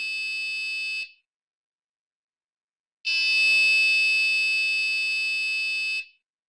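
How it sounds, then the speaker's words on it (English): A piezo buzzer triggered by a reed switch when the magnet moves away, a piercing high steady tone that stops after a second, pauses for two seconds of silence, then sounds again for three seconds. "Once you move it away, it turns on the piezo buzzer."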